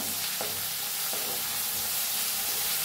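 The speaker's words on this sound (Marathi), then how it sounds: "लसूण वाटून घेतलेलं घालूया याच्यात, पत्ता। त्याला हलवून भाजून घेऊया चांगलं।" Crushed garlic sizzles and fries in hot oil with cumin and asafoetida for kadhi. A steady, loud crackle continues throughout, with faint scrapes as it is stirred in the pan.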